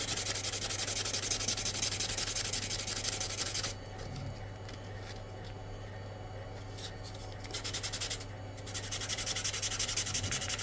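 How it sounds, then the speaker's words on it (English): Sandpaper rubs back and forth over an armour bangle to remove excess super glue, making a steady, close, hissing scrape that eases off in the middle before resuming at full strength. "I can just like sand that area off of excess super glue"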